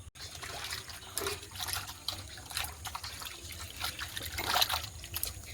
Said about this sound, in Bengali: চলো প্রথমে চিকেনটাকে একটু ধুয়ে নিই